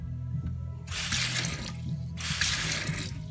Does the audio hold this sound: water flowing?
yes